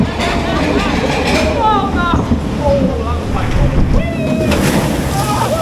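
Water pouring and splashing over riders at the front of a Pleasurewood Hills water ride boat, a loud continuous rush mixed with excited shrieks and shouting voices.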